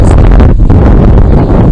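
Strong wind buffeting the microphone beside a pond during shore fishing, a loud, continuous low rumble and gusty roar lasting the whole moment, with no voices.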